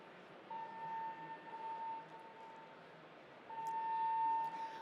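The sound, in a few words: building alarm going off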